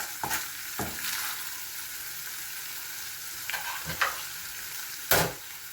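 Minced pork sizzling steadily in a hot pan, with several distinct scraping stirs of a spatula breaking through the continuous frying hiss, close and fairly quiet.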